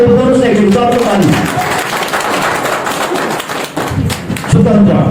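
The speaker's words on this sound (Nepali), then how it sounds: "ताली बजाउनुहोस् न एकचोटि, चर्को ताली" A church congregation bursts into loud, dense clapping that fills the hall for several seconds, with a voice speaking at the start and end.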